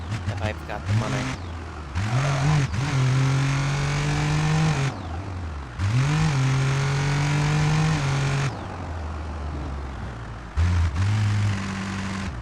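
A cheap, overloaded van in BeamNG.Drive, crawling and limping along, its engine revving up in repeated droning pulls with gear changes between them, steady and close, with someone talking over much of it.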